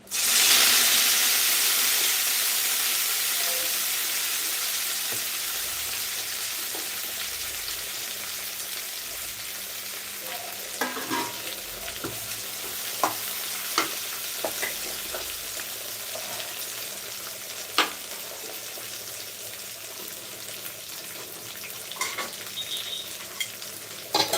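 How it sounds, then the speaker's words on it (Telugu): Mint leaves frying with green chillies in an oily pan for chutney, a steady broadband sizzle and hiss throughout with occasional sharp pops and stirring clatters, no talking. "పచ్చిమిర్చి వేయించిన దాంట్లోనే పుదీనా కూడా వేయించుతున్నాను"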